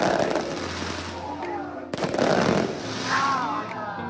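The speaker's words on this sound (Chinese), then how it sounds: "现在就在喷泉的旁边，放烟花就在这里啦" Fireworks burst beside a fountain during New Year celebrations in Kota Kinabalu, Sabah, with rapid crackling and booming volleys in a sustained rumble while a person talks over them.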